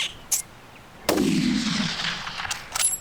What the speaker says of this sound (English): Nice shot, guys.